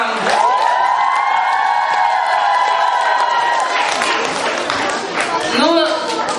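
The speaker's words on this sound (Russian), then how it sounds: "аплодисменты еще раз вам." An audience at a children's talent festival applauds and cheers after a performance. Loud crowd noise with whoops is mixed with a voice talking over it, and the cheering fades toward the end.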